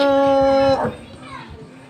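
Children playing outdoors, with one child's high, sustained call at first, then softer, distant chatter and play noises.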